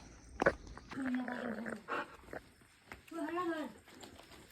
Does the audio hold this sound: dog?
yes